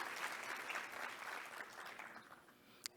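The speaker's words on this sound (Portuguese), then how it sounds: "eu peço uma calorosa salva de palmas" Warm audience applause at a lecture, a dense burst of many hands clapping together that slowly thins and fades toward the end, quietly recorded.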